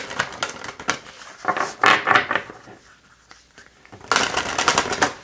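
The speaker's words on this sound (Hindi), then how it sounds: "आपके कार्ड्स को शफल करेंगे" A deck of tarot cards is shuffled in several quick, crisp riffling bursts separated by short pauses, close up and fairly soft.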